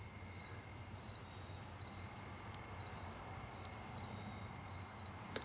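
Crickets chirp on a summer night at 1 a.m., a steady high trilling pulsing continuously in the background with no talking.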